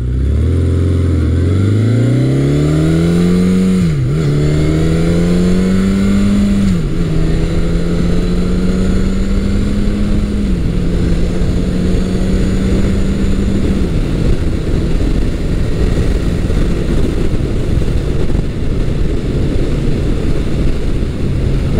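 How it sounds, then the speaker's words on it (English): A 1980 Honda CB900 Custom motorcycle runs steadily under a rider, its engine note rising through the gears with brief dips at each shift, then settling into a smooth, loud cruising hum with wind rush, no voices. "I'm riding Honda's 1980 CB900 Custom"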